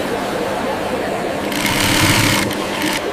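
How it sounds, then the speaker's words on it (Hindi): A factory sewing machine runs steadily, joining fabric pieces cut from old clothes on a stitching line; a continuous mechanical whir grows busier and brighter partway through, close and fairly loud. "अब इन टुकड़ों को सिलाई लाइन में जोड़कर नया कपड़ा तैयार किया जाता है।"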